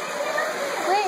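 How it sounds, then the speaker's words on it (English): Tiny mountain waterfall on Mt. Baldy, a steady close rushing splash of water, continuous and fairly loud for about a second. "The world's smallest waterfall."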